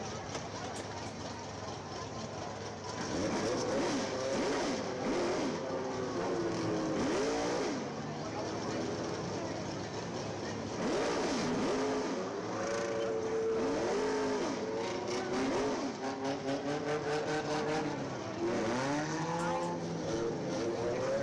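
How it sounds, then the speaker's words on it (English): Several race cars circle a dirt speedway at Dixieland Speedway, their engines rising and falling in repeated revving sweeps as they pass, with a commentator's voice over the roar. "5 cars on the racetrack"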